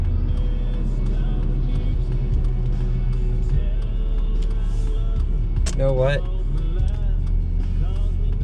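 A car driving past on a road in strong wind and rain, a steady engine and tyre rumble passing nearby while someone talks over it.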